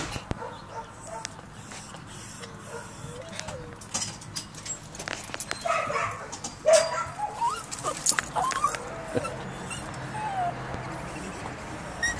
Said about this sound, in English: never seen a dog so anxious to get his toenails trimmed